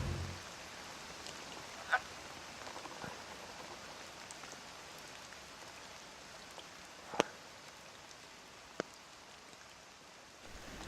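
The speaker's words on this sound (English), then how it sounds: "It's hard to film out here with the moisture and the rain." Steady rain falls outdoors at night, a dense, even hiss of drops with a few sharper drips and taps standing out, close and unbroken throughout.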